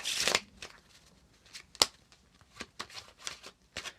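Playing cards being shuffled: a loud riffle at the start, then a series of quick, crisp snaps and flicks at irregular intervals, close up.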